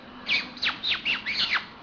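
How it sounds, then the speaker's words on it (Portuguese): Parakeets squawking at a window, five sharp, shrill calls in quick succession at close range, each a loud rising-then-falling screech with brief gaps, over a faint steady background hum. "E eles estão brigando lá, os periquitos, só."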